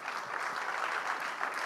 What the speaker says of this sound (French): Encore, applaudissez très fort.